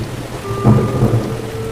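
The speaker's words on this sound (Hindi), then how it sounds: "और बाहर तो बारिश अचानक शुरू हो गई।" Low rumbling thunder rolls over a steady wash of heavy rain, the rumble swelling briefly before easing.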